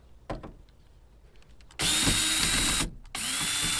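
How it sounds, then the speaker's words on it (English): A power driver whirs in two loud bursts, removing the screws that hold a Ford Maverick taillight, preceded by quieter tapping and handling clicks up close. "There's two screws that hold your lights on, and then they just pop out."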